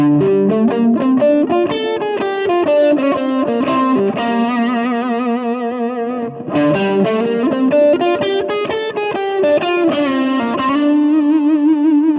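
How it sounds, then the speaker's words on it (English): Distorted electric guitar plays flowing melodic phrases with a chorus-like shimmer, sustained and loud throughout, no voices. "I'm just going to play rhythms from the Dorian scale and then end on one of those notes."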